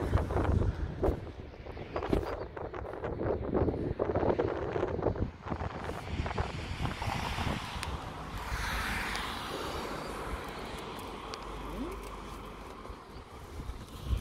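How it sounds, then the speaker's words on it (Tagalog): Steady cold spring wind gusting across an open outdoor space at Sylvenstein, Germany, a broad continuous rush with buffeting against the microphone and faint background activity. "Malamig ang simoy ng hangin."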